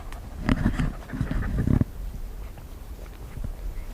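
Hunting dog panting in short rough bursts close by, a few loud breathy clusters early on, then quieter huffs against faint background noise, with no talk.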